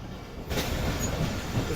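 Refurbished Hazara Express passenger train running along the tracks, heard from inside: loud continuous rumble and wheel noise with a brief rise in hiss, no talking.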